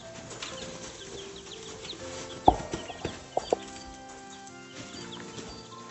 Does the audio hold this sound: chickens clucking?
yes